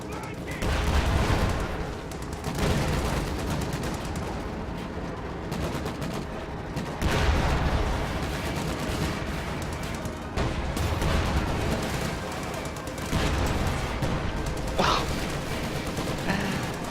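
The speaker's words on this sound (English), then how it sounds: "Shermans shoot that army up into pieces, and then RNG bombs finish the job" Sherman tanks firing and bombs exploding in a World War II strategy game, a continuous din of overlapping cannon blasts, gunfire and booming detonations with a voice talking over it.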